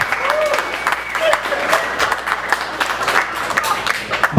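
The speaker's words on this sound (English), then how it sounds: "Clap it up for yourselves." Audience applause at a comedy show, a dense, steady wash of clapping from a crowd filling the room, fairly loud and sustained with some voices mixed in.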